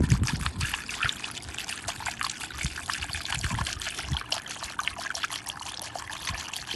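Heavy-duty purple antifreeze coolant poured from a gallon jug into a car radiator, a steady close trickling and gurgling stream running continuously without speech.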